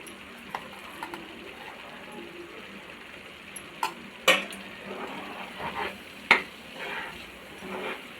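Cut boiled egg being stirred into masala paste in a pan for egg chukka: a faint low sizzle under occasional sharp clinks and scrapes of a spoon against the pan.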